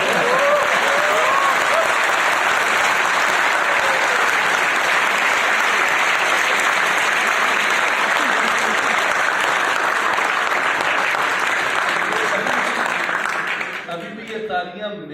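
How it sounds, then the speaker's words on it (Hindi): Sustained audience applause fills a university hall after a speech, dense and steady for most of the stretch before thinning out near the end. "तालियां मेरे लिए नहीं बजी, उन्हीं के लिए"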